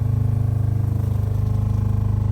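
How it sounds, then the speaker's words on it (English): A water pump draws antifreeze into the line while the system is shut down for the season, giving a steady, close, rhythmically pulsing mechanical hum with no talking. "So you can hear the pump running right now, and it's drawing the antifreeze into the line,"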